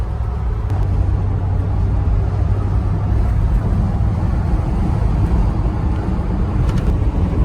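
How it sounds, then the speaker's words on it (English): Steady low exhaust rumble from an American muscle project car heard from inside the cabin, mixed with constant wind rushing through gaps in worn weather stripping, loud and continuous throughout. "you can hear the exhaust, but you can also hear the wind going through the car"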